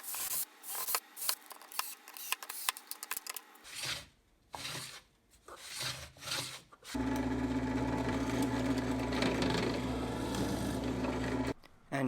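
Power tool cutting grooves into a wooden shelf for a bandsaw stand; scattered knocks and short bursts first, then a loud steady whine of cutting through wood that runs several seconds before stopping abruptly.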